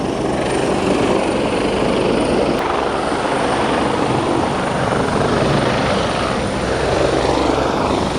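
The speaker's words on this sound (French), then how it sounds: "Il y a un hélicoptère qui descend." A descending helicopter in Hong Kong roars continuously and loudly overhead, a dense, steady whirring rotor and engine noise with no break.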